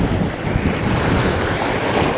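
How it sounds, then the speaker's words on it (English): Big bow waves from a small boat on open water off a breakwall, a loud continuous rush of surf and spray mixed with heavy wind buffeting the microphone. "they're the big bow waves"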